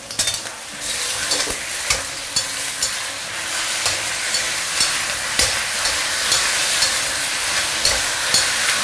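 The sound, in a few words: chicken stir-frying in caramelized sugar in a wok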